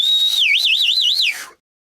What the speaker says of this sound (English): We whistle to show our appreciation,